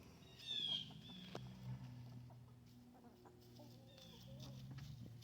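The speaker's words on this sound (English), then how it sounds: "Got chickens here pecking at my boots." Several chickens cluck and squawk close by, with a louder burst early on, over a steady low hum of background noise.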